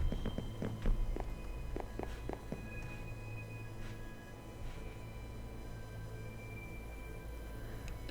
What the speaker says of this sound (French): Vous entendez les bruits de pas?